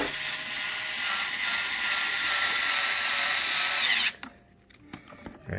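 A power drill drives screws into a Lifepak 20 clamshell case, a loud, steady whirring buzz lasting about four seconds before stopping abruptly, followed by faint handling clicks.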